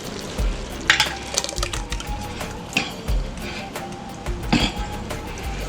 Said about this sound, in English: The next thing we're going to add is our 2 bottles of Prego spaghetti sauce.